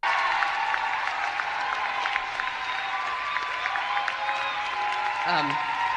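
A large crowd at a speech applauds and shouts steadily to drown out the speaker, a dense, continuous roar of clapping and voices with a brief vocal cry near the end.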